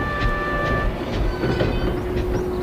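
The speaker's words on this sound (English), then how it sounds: "When Edward clanked in with his stopping train." A steam engine train clanks in with a steady rumbling roll, rhythmic clicking of wheels and faint squealing tones, loud and continuous throughout.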